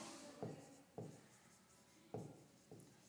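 Pen writing names on paper in a classroom, four quiet strokes spaced irregularly, faint and close, with no talk.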